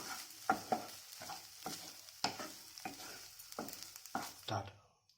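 A spatula scrapes and stirs egg bhurji in a sizzling pan, rhythmic strokes about twice a second, close and clear, ending in quiet.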